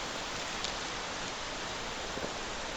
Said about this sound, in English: Despite how heavy the rain has drastically become